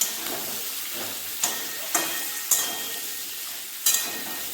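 Spinach with salt and turmeric sizzles softly in a pan while being stirred, steady frying hiss broken by several sharp spatula scrapes and clinks against the pan.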